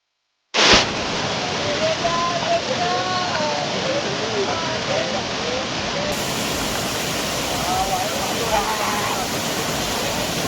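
A monsoon waterfall at Shri Malanggad roars as a dense, steady wash of falling water from start to finish, with voices calling and chattering over it.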